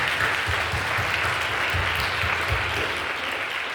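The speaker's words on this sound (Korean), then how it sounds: "우리 여러 곳에 예배하는 분들을 위해서 격려하고 박수 한번 해주시고" Congregation clapping during a Korean church worship service, a continuous even wash of applause with some individual claps standing out, moderately loud with no speech.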